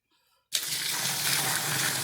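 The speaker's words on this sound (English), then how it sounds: "I'm gonna pour 5 gallons of hot water in there." Hot water at about 180 to 190 degrees gushes into a corn mash from a 5-gallon pour for sour mash, starting abruptly after a brief quiet and continuing as a steady, close rushing splash.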